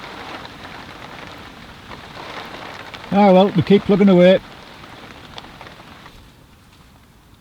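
Steady rain falls on a cold carp fishing lake, a continuous hiss throughout, with someone speaking briefly in the middle.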